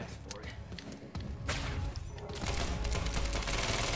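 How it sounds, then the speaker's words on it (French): Rapid gunfire from an MP7 loaded with armor-piercing rounds in the video game Quantum Break, a dense burst of sharp cracks building into sustained loud firing with game effects and a voice underneath. "Il a tiré sur son collègue alors avec une arme, donc la MP7 qui a des munitions perforantes."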